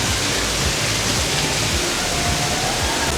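Water splashing and spraying across a cruise ship's splash play area, a dense, steady rush that stays loud and constant throughout without pause.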